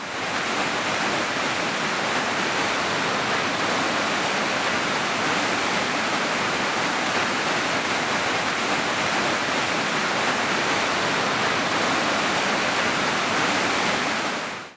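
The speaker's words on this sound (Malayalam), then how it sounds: "നല്ലൊരു വെള്ളച്ചാട്ടമാണ്" The Kallattupara waterfall in Idukki, swollen after heavy rain, gives off a dense, steady roar of rushing water, loud and unbroken throughout with no voices.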